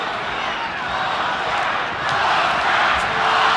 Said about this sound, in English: Crowd already chanting Oscar, Oscar, Oscar.